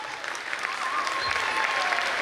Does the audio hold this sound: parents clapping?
yes